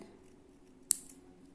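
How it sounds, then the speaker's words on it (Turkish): A single crisp snip of scissors cutting thread while making Turkish needle lace, close and quiet against a faint steady background hum. "ipimi burada kesiyorum dibinden"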